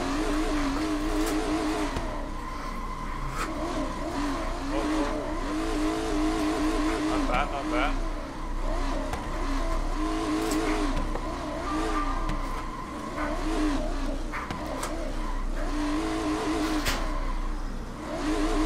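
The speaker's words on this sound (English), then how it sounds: "Again, same car as EvlRabbit, and he's off." A race car pulls away at a hill climb event, its engine note loud and continuous with rising and falling revs throughout, engine roar dominating the scene.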